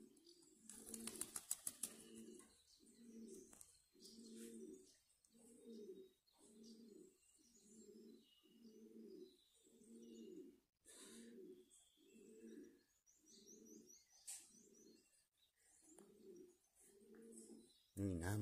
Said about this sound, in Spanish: a ver si le podemos sacar algunos pichoncitos, por lo menos a este palomo, a este, al cuervo y a Jazmín